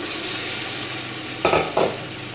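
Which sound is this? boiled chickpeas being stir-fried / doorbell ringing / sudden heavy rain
boiled chickpeas being stir-fried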